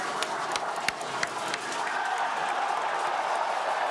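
A crowd cheers and applauds for a Starship rocket landing, a dense, sustained wash of voices and clapping with a few sharp claps near the start, heard at moderate distance.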